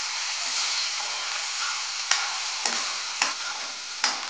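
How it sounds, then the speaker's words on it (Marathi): Ground masala sautéing in oil in a pan for an egg curry, a soft continuous sizzle with a few sharp clicks of a spoon or spatula against the pan. "आता मसाला चांगला परतवून घेऊन"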